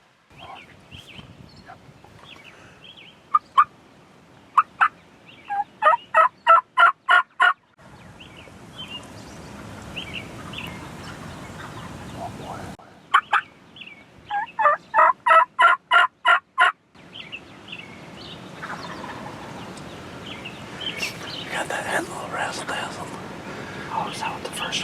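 Wild turkeys gobble from their roost in two separate bursts of rapid, rattling calls, fairly distant, with a few scattered yelps before each, while hunters whisper quietly between the bursts.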